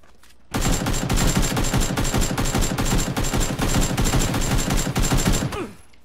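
Rapid bursts of automatic gunfire in the video game Knives Out crackle nonstop for several seconds, loud and close, with sharp repeated shots in a steady stream before cutting off.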